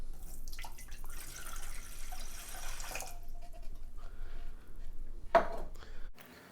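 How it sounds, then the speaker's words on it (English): Water poured into a saucepan on the stove for chai tea, a rushing splashy flow for a few seconds, then quieter trickling and a brief clank of the pan. "we're just going to drop the water in there."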